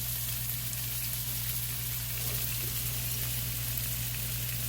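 Bacon-wrapped stuffed chicken breasts fry in a pan, giving a steady, even sizzle that holds through without a break and without talk, over a constant low hum in the kitchen.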